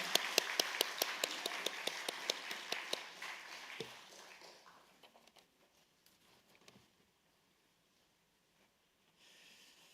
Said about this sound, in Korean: 다시 한번 축복의 박수 하겠습니다